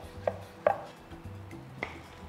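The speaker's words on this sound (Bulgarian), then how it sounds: "Вече обеления домат нарязвам също на ситни купчета" A knife chops a peeled tomato into small pieces on a board, a few sharp taps spaced unevenly, close and fairly quiet.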